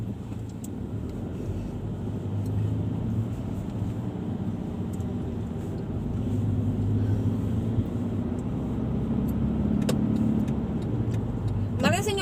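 A car engine runs with a steady low hum that swells slightly, joined near the end by a brief sharp click.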